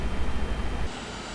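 Airbus A320 engines in X-Plane 12 give a steady, loud broadband roar that holds for about a second, then drops abruptly to a quieter, even hum.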